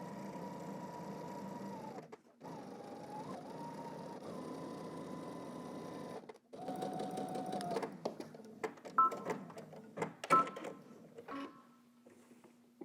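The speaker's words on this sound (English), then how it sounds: "we're gonna go ahead and stitch again 1/4 of an inch" A sewing machine stitches an elastic casing in fabric a quarter inch from the raw edge, its even motor whir running in two long bursts with brief stops, then giving way to scattered clicks, taps and handling noises.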